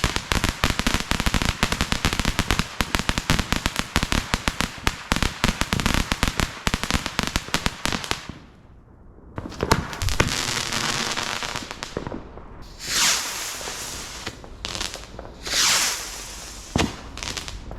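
Consumer fireworks from an Evolution Pluto selection box go off in a dense, loud run of crackling bursts and pops, then thin out into a few separate whooshing shots and crackles, with no voices.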